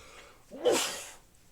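One close, abrupt human sneeze, with a short intake of breath and then a burst.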